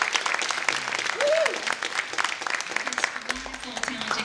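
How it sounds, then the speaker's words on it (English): A theater audience breaks into a dense, sustained round of applause for the crew, with many hands clapping at once and a few brief voices and whoops rising through the clapping. "So a round of applause for Dennis Curry"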